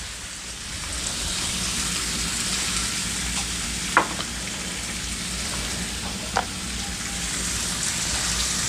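Burger buns sizzling on a griddle over low heat, a steady close hiss and crackle with two brief sharp clicks partway through.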